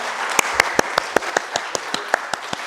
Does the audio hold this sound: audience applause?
yes